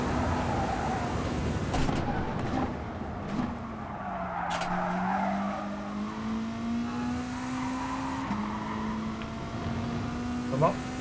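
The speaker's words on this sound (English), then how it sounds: "You just need to get the car really sideways in the corners and just really power through." Tires squeal as a race car skids sideways through corners in Gran Turismo Sport. The engine whines and rises as it accelerates, the squealing is sustained throughout, and someone talks over it.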